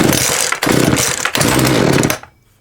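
A chainsaw engine fires and revs loudly in three bursts with short dips between them, then cuts out abruptly into silence.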